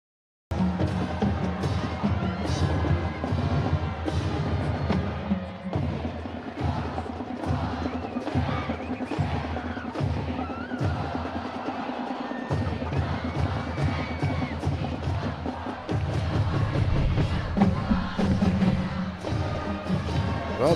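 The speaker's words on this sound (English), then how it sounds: "Well, the crowd's all riled up, ready for the second half" Crowd noise at a high school football game, North Medford against Mountain View, a dense continuous roar of many voices with shouts and thumps, swelling louder near the end, and faint talk mixed in.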